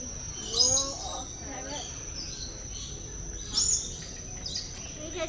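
Birds chirp and call in the aviary of Kuala Lumpur's KL Bird Park, with two louder high calls standing out over a steady chorus of chirping and insect-like buzzing, while voices murmur faintly in the background.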